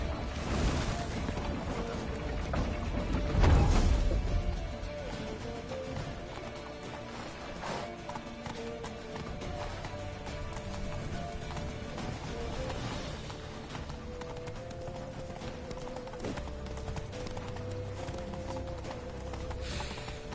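Hooves clatter in a fast, steady galloping rhythm over a busy PS4 game soundscape, with a louder crash early on and no voices.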